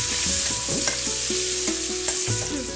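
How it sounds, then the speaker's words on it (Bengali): Paneer cubes with a pinch of salt frying lightly in a pan give a steady, close sizzle with soft stirring scrapes throughout. "পনিরগুলো আমার খুব হালকা করে ভাজা হয়ে গেছে।"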